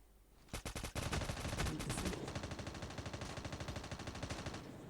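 Automatic gunfire in Call of Duty Mobile battle royale: a few sharp single shots, then a sustained rapid burst of rattling fire, loud and continuous for several seconds.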